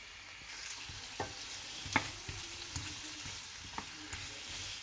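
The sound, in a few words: stirring garlic butter potatoes frying in a pan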